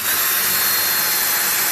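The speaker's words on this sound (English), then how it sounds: "so I'm pre-drilling these" A power drill pre-drilling holes in wood for a marble machine mockup, giving a loud, continuous high-pitched whirring grind with no pauses or voices.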